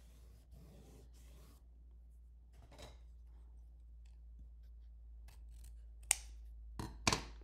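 Scissors snipping moss for a handmade spring shelf-sitter decoration, a few quiet soft cuts and rustles spread out, then sharper crisp snips near the end, with no talking.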